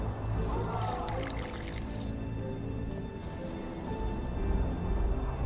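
Water pouring and trickling in The Witcher 2, wet dripping and liquid squishing with a steady background hum, fairly close and moderately loud, with soft voice-like sounds underneath.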